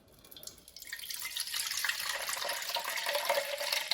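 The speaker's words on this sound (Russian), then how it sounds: "налью воды." Water poured into an orchid planter pot, starting faint and swelling into a steady, splashy hiss of running and filling liquid that stays close and fairly loud with no talking.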